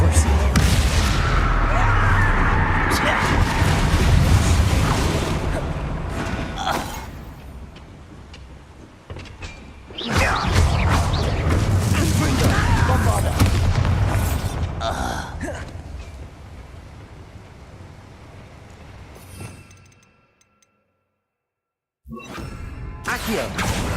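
A Bombarda explosion spell is cast in Hogwarts Legacy, bringing loud booming blasts and rumbling debris among battle noise. Surges return around the middle, then the sound drops to near silence before resuming.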